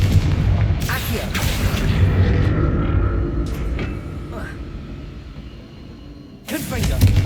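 Confringo blast spell exploding in the Hogwarts Legacy video game, a loud booming blast with a deep rumbling tail that fades over several seconds before a second sharp burst near the end.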